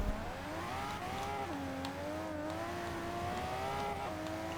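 An Aston Martin DB11 engine roars during a Forza Horizon 3 race, with a steady, loud drone whose pitch rises and dips as the car accelerates and shifts gears.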